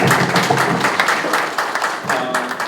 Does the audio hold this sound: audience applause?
yes